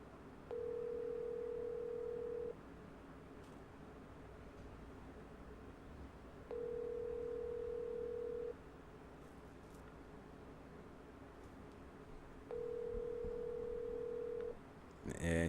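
Outgoing call ringback tone, three identical steady two-second rings spaced evenly apart over a quiet background hiss, with no voices.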